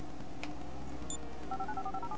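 Phone dialing tones from an old-fashioned handset in GTA V, a quick run of short electronic beeps over low background game music.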